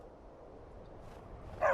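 A dog in Skyrim gives a single short bark near the end, after a quiet stretch of low ambient rumble.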